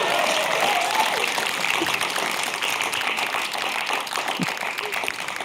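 A studio audience at a televised Q&A panel show claps in a dense, sustained patter of many hands that eases slightly toward the end, with no talking over it.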